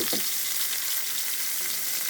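A small amount of oil swirled in a hot pan gives a steady, close hissing sizzle that holds evenly throughout, with a brief clink at the start.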